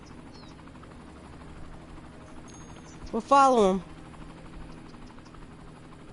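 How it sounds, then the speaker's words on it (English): In the Cities: Skylines video game on PS4, a helicopter flies amid steady background game sounds, with a brief louder burst in the middle where a voice speaks. "I hear a helicopter."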